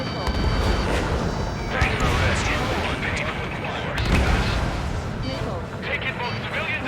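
Bombs explode in Ace Combat 7, a dense, rumbling roar of blasts with heavy low booms swelling and fading, while voices talk over the continuous din.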